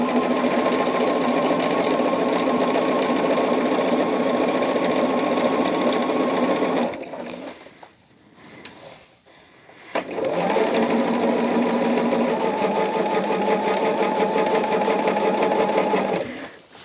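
Sewing machine running fast to stitch jelly roll quilt pieces, a loud steady near hum for several seconds, a short pause with faint handling, then another long continuous run.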